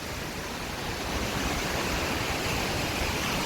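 Sea waves wash in at a beach where fishing goes on, making a constant broad roar of surf that stays even and fairly loud throughout, with no voices.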